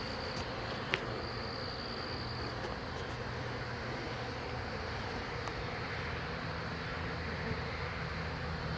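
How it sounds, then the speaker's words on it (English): A swarm of honey bees drones in a steady, dense buzz close around, broadband and continuous with a couple of brief ticks, no voices. "Now some of those bees hit the ground over here."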